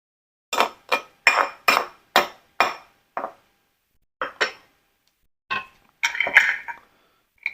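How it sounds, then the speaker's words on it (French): Hot homemade ketchup is ladled through a jam funnel into glass jars, giving a series of sharp clinks and knocks of metal on glass, close and irregular, with short pauses between groups. "Je mets mon ketchup à chaud, hein. dans mes pots avec, avec ma passoire à confiture."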